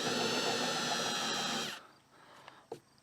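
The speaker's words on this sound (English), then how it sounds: "you want to countersink this hole" A countersink bit grinds loudly and steadily into a hole in the gel coat of a 1972 Glasspar by Larson boat, then stops abruptly, leaving a quiet space with a couple of small knocks.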